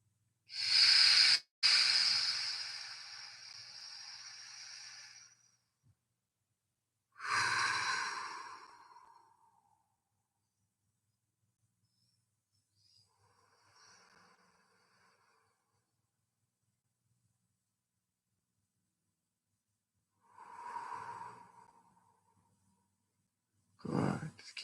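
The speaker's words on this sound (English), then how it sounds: "2 minutes of stomach breathing. Just breathing into the stomach as deeply as we can." Deep, slow belly breaths taken as an apnea warm-up, with a few long breathy bursts spaced several seconds apart and quiet gaps between them, close and fairly loud.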